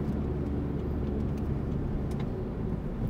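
A car pulling away under steady acceleration after a shift into fourth gear during a driving-test practice route, its engine a continuous broadband hum and road rumble close inside the cabin, with no talking.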